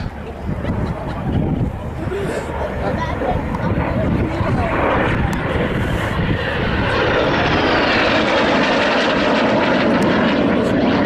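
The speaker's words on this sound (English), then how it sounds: "Actually a tough little machine, the J29s, from the Austrian Air Force, who had 30 of them, from 1961 to 72." Saab J29 jet fighter of the Austrian Air Force flying at an air display, a loud continuous engine roar that swells slightly, with a voice commenting over it.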